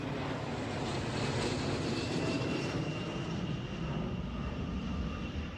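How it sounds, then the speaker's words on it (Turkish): Firefighting planes and helicopters working over a forest fire on an island, a steady, loud engine drone that holds throughout without pause. "Orman Genel Müdürlüğü de yangın bölgesine 4 uçak, 5 helikopter ve 5 arazöz sevk etti."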